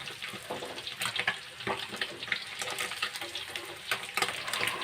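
Chicken pieces deep-frying in hot oil in a home kitchen, a dense, continuous sizzle and crackle with scattered sharp pops, close and fairly loud, with no talking.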